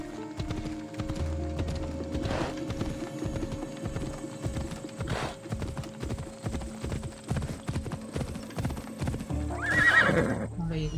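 Spurred horse galloping in the video game Assassin's Creed Odyssey, with rapid, regular hoofbeats running steadily and close throughout. A whinny rises near the end.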